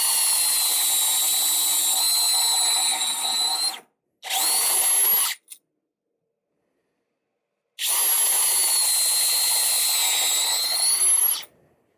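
Power drill driving screws into wood on a pencil press build, loud sustained whirring in two long bursts with a brief burst between and a short silent gap, no talking.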